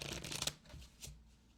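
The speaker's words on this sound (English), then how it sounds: "So I actually can do some card tricks." Playing cards riffle-shuffled for card tricks, a quick crisp burst of fluttering card slaps followed by a second short riffle, close and clear with no talking.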